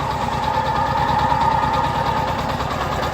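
A Shifeng 244 tractor fitted with a cab and a compressor idles steadily nearby, its small diesel engine chugging in an even, slightly knocking rhythm with constant vibration and no voices.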